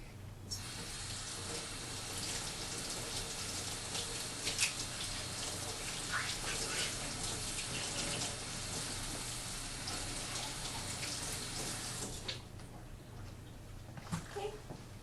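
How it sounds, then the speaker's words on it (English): Kitchen tap running steadily as vegetables and the lid of a pinto bean can are rinsed under it, a continuous splashing gush with small clinks, stopping near the end. "I'm going to first rinse our vegetables and also the top of the pinto bean lid to get most of the dirt off of our food"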